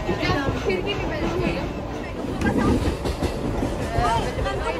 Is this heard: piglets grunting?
no